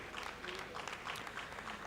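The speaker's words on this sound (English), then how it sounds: "please take our applause" Audience applause for a boys' team at a live school event at R K Mission Vidyapith, Deoghar, heard as a steady, fairly faint wash of clapping across the short stretch.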